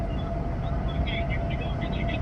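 Dense, loud roar from inside the Dominator storm chasing vehicle, a constant broadband rumble like a jet engine that fills the space and never lets up, with faint higher whines drifting on top.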